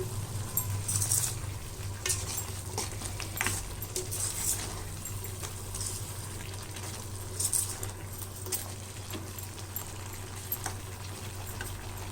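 Chilli powder and turmeric are stirred into a simmering brinjal gravy, giving a soft, quiet sizzle with light scraping and occasional small metallic clinks from the spoon over a low steady hum.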